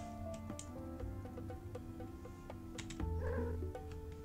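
A cat meows in the cooking game Chef's Tail, a few short cries over a bed of steady game music and ticking effects.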